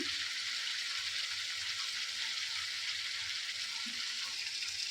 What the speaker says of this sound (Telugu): ఇలా కాసేపు కొంచెం వేగనివ్వాలి. సిమ్లో పెట్టుకొని వేగనివ్వాలి.